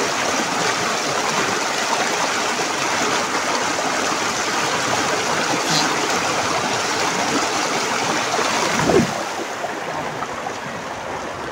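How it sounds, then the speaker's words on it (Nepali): A small stream flows steadily with a constant rushing, bubbling wash of water throughout, close and fairly loud, with no talking. "यो खोला चाहिँ यहाँ चाहिँ यत्रो मात्रै छ"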